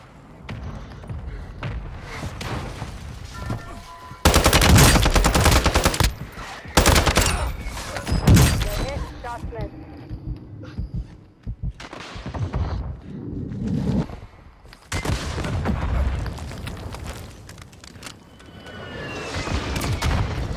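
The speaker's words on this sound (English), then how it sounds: "Requesting fire mission. Target marked. Copy. Mortar strike inbound now." Mortar strike explosions in Call of Duty Warzone 2, a series of loud, heavy booming blasts with rumbling tails, several separate impacts spread over about twenty seconds.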